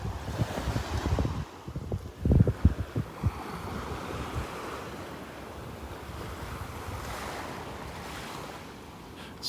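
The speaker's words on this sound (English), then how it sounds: "listening to the waves" Waves break and wash up on a beach in North Naples, Florida, a steady surf roar with louder crashes near the start and continuous wind noise buffeting the microphone.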